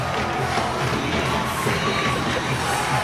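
A rugby league crowd at the Championship 1 Grand Final roars and cheers after a York City Knights try, with a continuous loud wash of shouting and many young voices among it.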